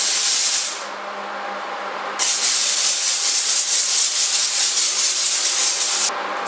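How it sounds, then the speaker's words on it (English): A steam cleaner jets loudly over a shopping cart, a harsh close hiss that drops away briefly near the start, resumes for several seconds, then cuts out again at the end. "Let's get a closer look at what the steam cleaner is removing from the shopping cart."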